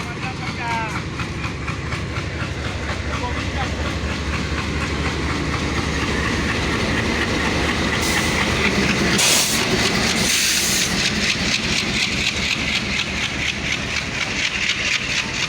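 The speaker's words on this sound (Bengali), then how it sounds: "পঁয়ষট্টি একত্রিশ লোকোমেটিক নিয়ে বর্তমানে আউট করলো বরেন্দ্র সৈয়দপুর রেলওয়ে স্টেশন" A WDM-3D diesel locomotive, number 6531, hauls the Barendra Express out of Saidpur railway station. A loud, steady engine rumble runs under rhythmic clickety-clack of the wagons, with a hissing burst midway and some voices nearby.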